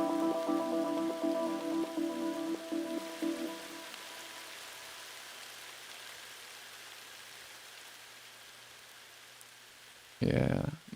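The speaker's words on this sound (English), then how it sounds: "You hear that rain?" Soft rainstorm texture sits in the background of a synth music track, a steady hiss of rainfall under fading tonal chords, with a brief louder burst near the end.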